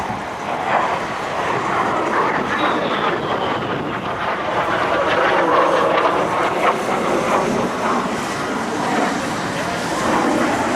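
A Lockheed T-33 jet rolls inverted during an airshow at the 2008 McGuire AFB open house, giving a steady, broad jet roar that stays fairly constant and somewhat distant for about eleven seconds.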